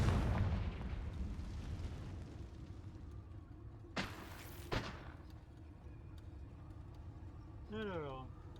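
Confringo fire-spell blasts in Hogwarts Legacy, two sharp close explosive bursts a moment apart over a low rumbling game background, followed later by a rising whooshing tone, with a voice speaking near the start.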